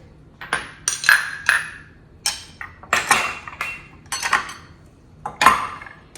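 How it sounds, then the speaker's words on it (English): Dishes, pots and cutlery are cleared up in a home kitchen during apple cake baking, with a run of close, sharp clinks, clatters and scrapes in irregular bursts. "let me clean my dishes up here a little bit"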